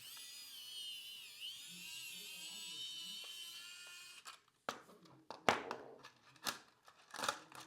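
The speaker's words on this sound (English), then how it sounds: "Gonna remove those screws as well to take off the AC power socket." A small whining electric screwdriver runs steadily for several seconds removing screws from an Apple TV's AC power socket, then stops, followed by faint clicks and handling of small parts.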